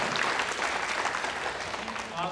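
An audience claps throughout a Taipei crosstalk comedy duo's stage performance, a dense, steady burst of applause that fills the hall, with voices mixed underneath.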